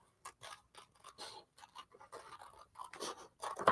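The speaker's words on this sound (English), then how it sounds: "I probably can cut quicker with the small scissors." Small scissors cut through paper close by in a steady series of soft, crisp snips and rustles, quiet and continuous, with no talking.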